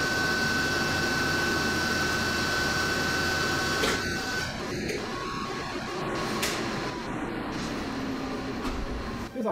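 A hydraulic power unit and motor of a friction testing machine in a laboratory run steadily, a loud continuous mechanical roar and hum with clanks and knocks near the middle, close and unbroken throughout.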